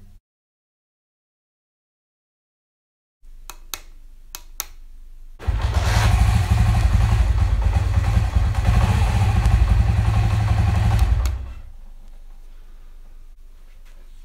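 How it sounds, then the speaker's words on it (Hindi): A few clicks, then a motorcycle fitted with an anti-theft switch starts and idles loudly with a steady rumble for several seconds before shutting off. "आप बाइक को स्टार्ट करते हैं"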